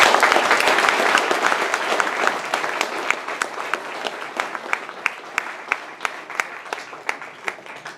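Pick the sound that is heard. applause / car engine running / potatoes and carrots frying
applause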